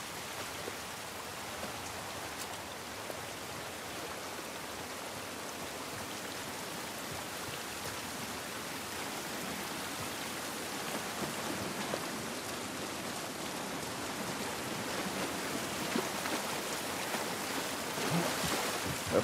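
Rain falls steadily outdoors in the video game The Last of Us Part I, a dense, even hiss of drops on surfaces that continues unbroken, fairly quiet, with no talk over it.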